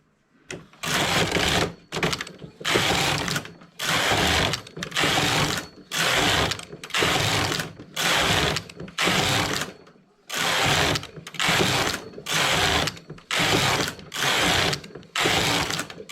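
Knitting machine carriage sliding back and forth while knitting a folded cuff, a loud near clatter in about a dozen steady passes separated by short pauses.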